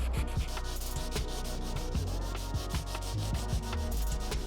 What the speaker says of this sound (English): So take your time and work your way through and give it a nice scuff to have a better gluing surface